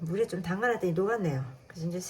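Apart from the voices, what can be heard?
None of the usual background noises is heard.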